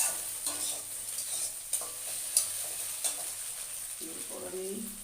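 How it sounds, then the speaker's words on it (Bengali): Egg and onion fry in a pan with a soft, continuous sizzle and occasional stirring clinks, fairly quiet and close. "দেখো আমার ডিমটা, পেঁয়াজটা ভাজা হয়ে এসেছে।"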